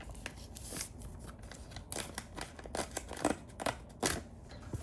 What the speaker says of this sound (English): And if you rip off the perforations